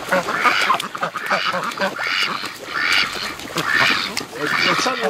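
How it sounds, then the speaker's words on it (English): Ducks on a lake quack in repeated bursts of calls, fairly near and prominent, while people talk over them. "There's ducks coming back here."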